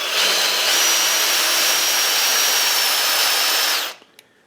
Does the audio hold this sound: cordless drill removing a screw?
yes